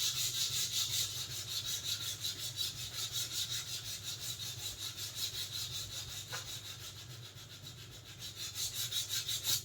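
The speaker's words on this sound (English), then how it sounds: "I'm now of course going to dirty my work by giving it a bit of a rub down with the sandpaper." Sandpaper rubs back and forth over the PVC-style surface of an Itiwit X500 inflatable kayak being prepared for a hole repair. The strokes are steady and close, with a rhythmic scratchy rasp that carries on throughout with no talking.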